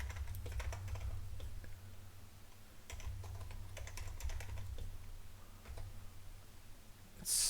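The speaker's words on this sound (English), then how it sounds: "I got to type it up." Typing on a computer keyboard, quiet irregular bursts of key clicks close by over a low steady background hum, with a brief louder noise at the very end and no speech.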